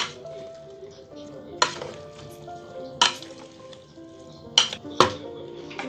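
Spices, including a spoonful of turmeric, are stirred in a cooking pot for chakchouka with eggs, with soft sizzling under sharp spoon clinks against the pot at a few irregular moments.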